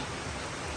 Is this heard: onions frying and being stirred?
no